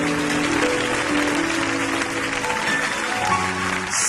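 A church congregation applauds to acclaim the Lord, with loud, continuous clapping sustained throughout over a faint musical backdrop.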